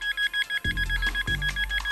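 Makro Racer device switched on, giving a fast series of short, high electronic beeps in an even pulse, with two low buzzing bursts of vibration alongside and no talking.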